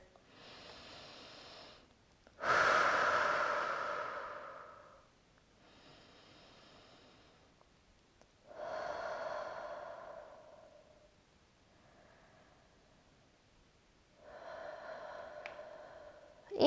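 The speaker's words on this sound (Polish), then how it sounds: "Trzy duże oddechy tutaj." Slow, deep breaths taken during a yoga pose, three long audible inhale-exhale cycles, close and breathy, separated by quiet pauses.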